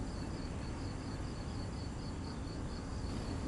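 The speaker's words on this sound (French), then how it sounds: "Les abeilles se réveillent." Mason bees stir inside their nest in early spring, giving a faint, steady high-pitched buzzing with a regular pulsing pattern, alone and quiet.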